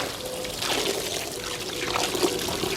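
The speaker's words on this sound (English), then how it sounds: "spray it down with a garden hose, just like this" A garden hose sprays water across a waterproof full-cover floor mat for a Tesla Model 3, a steady close hiss of spray and splashing with no talk.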